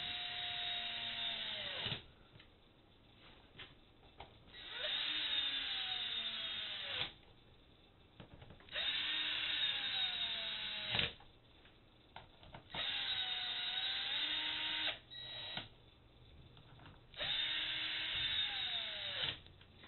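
A cordless drill whirs in repeated bursts of about two seconds, its pitch dropping as each screw tightens, with short pauses between runs.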